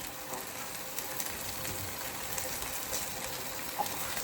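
Sago grubs crackle in hot oil in a deep fryer, a steady dense sizzle with a watery hiss running continuously and close by.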